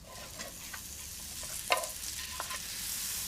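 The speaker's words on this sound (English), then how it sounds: "First, heat 25 grams of butter in a saucepan." Butter heating in a saucepan gives a faint, steady sizzle with a few soft clicks and light stirring scrapes, heard alone without speech.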